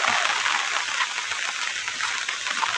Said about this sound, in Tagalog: Biglang bumuhos ang ulan.